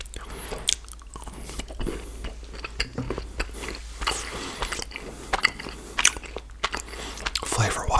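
Crunchy bites and wet chewing of strawberry chocolate squares with tough, chewy strawberry pieces, soft but with a slight crunch. Close, repeated crisp snaps and mouth sounds come in uneven bursts across the whole stretch.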